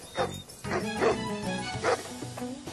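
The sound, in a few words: dog barking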